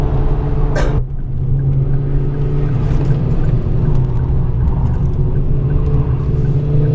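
A car pulls away from a standstill with a steady close engine drone and road rumble, a brief high whoosh near the start, then smooth continuous acceleration noise inside the cabin.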